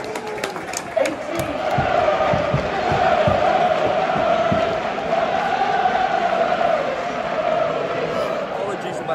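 Large away crowd filling a football stadium for a Cheltenham Town versus Gillingham match, a steady loud roar of many voices with a few sharp shouts and claps near the start, continuous throughout.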